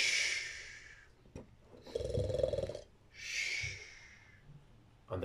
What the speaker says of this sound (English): Listen to him snore.